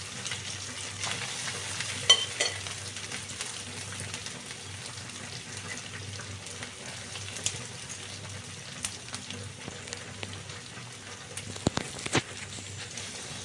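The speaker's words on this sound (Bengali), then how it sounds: "দিয়ে এবার দেখো আমি সুন্দর করে এটা ভেজে নেব" Basmati rice coated in spices fries in a pan with bay leaf and whole garam masala, giving a soft, continuous sizzle with occasional faint scrapes and clicks of stirring, quiet and free of talk.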